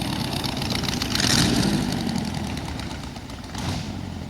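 A rat rod car's engine runs hard and close, rising and falling as it works through the gears, with a loud, steady rumble throughout.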